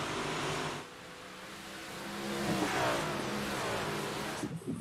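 Race cars roar past during a heat race, engines rising and revving as they pass at a moderate distance, loud and sustained.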